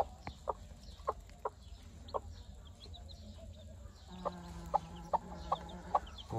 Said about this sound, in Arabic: تعالوا خلينا نشوف الكتاكيت شنو اخبارهن